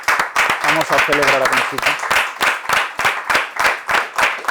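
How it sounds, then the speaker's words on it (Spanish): An audience applauds in tribute to Conchita Quirós at a literary panel discussion. A voice speaks first, then a run of crisp, fairly regular claps fills the rest, moderately loud and close. "para la que me gustaría pedir un aplauso"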